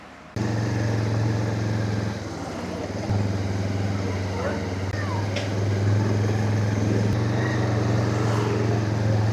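A motorcycle engine drones steadily and close while riding through the hill town of Darjeeling, with a continuous low rumble and slight swells in level over several seconds.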